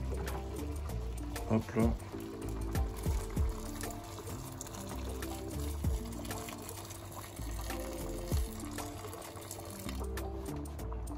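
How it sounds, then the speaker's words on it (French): Water is poured into a cooking pot of shrimp dombrés, a splashing, gurgling pour in uneven bursts, with a person speaking briefly over it. "il y en a quelques-unes qui sont en dehors de l'eau, du coup on va rajouter de l'eau"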